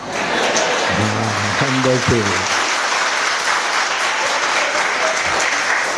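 An audience at a Jain religious discourse keeps up loud, continuous clapping while someone briefly speaks over it, the dense applause running unbroken to the end.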